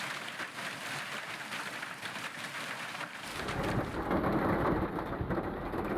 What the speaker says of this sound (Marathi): मराठवाड्यामधली पावसाची दृश्य आपण बघतोय